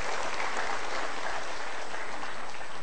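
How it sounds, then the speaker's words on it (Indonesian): Studio audience applause on an Indonesian motivational talk show, a steady, dense wash of clapping at moderate volume across the whole stretch, with no voices over it. "kita berikan tepuk tangan dulu"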